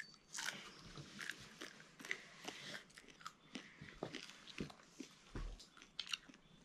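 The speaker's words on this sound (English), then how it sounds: "You eat the bone, you just chew it up really hard." Fried garter snake bones are chewed hard and close up, giving a series of irregular crunchy bites and crackles over a quiet background.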